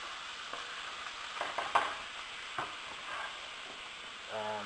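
Wine deglazing a hot pan with a faint steady sizzle and occasional light scraping taps against the pan bottom, with a small clink near the end, and no one talking.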